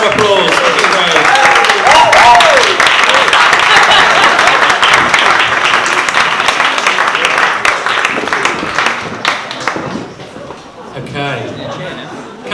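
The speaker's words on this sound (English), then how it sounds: "Let's give Craig a round of applause." Wedding guests at the speeches give a loud round of applause for the best man, dense clapping mixed with cheers and chatter that thins out after several seconds into scattered claps and voices.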